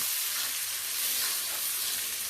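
Spice masala frying in a pan, a dense, steady, bright sizzle that stays close and loud throughout with no voices.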